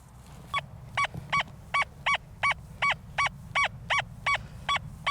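XP Deus II metal detector with a big coil giving its target tone on good targets: a rapid series of about fourteen soft, evenly spaced beeps over faint outdoor background.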